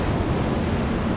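Oulujoki river rapids at Pyhäkoski rush and churn in a steady, dense roar of foaming whitewater with powerful swirling currents, loud and continuous with no pauses.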